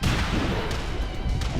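A rose-shaped explosive goes off in a Tekken rage art, a dense, loud blast-like rumble with heavy low-end booms and crackling bursts filling the whole moment.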